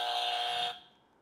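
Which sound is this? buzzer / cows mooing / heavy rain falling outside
buzzer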